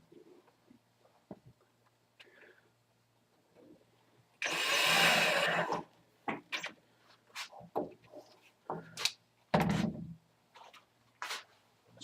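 A power drill runs in one sustained loud burst of about a second and a half as it drives screws into a wooden block, followed by scattered clicks and handling knocks from the workpiece.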